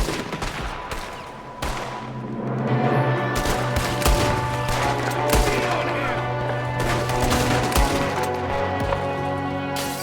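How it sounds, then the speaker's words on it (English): Dense gunfire in the video game Red Dead Redemption 2, with rapid overlapping shots and bursts continuing for several seconds, loud and busy over a steady game background with faint voices. "There's another one shooting from the window."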